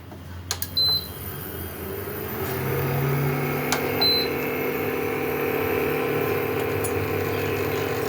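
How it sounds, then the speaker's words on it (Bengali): A couple of clicks and short electronic beeps come first, then a low, steady hum starts up and keeps running, like an appliance switched on. "এখন আমি মাইক্রোওভেনটা চালিয়ে নেব।"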